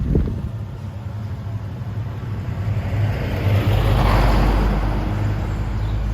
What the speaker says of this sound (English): There's occasional traffic through here.